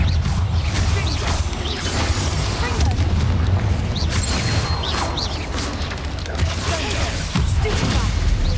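Confringo blasting spells in Hogwarts Legacy go off as repeated booming explosions with whooshes and crashes, loud and near, layered with game effects and a voice speaking over them.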